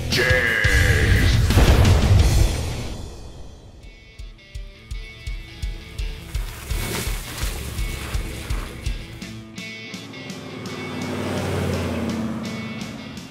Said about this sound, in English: Today we've taken a drive down to our favorite burger joint in this behemoth, a 1972 Chevy K5 Blazer.